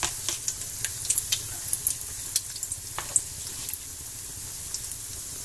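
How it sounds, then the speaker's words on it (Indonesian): Thin shrimp and cheese patties fry in hot oil with a steady, close sizzle broken by frequent sharp pops and crackles throughout, and no voices over it. "Gorengnya itu usahakan tipis-tipis ya, jadi bisa agak garing, tapi gorengnya jangan sampai kering gitu."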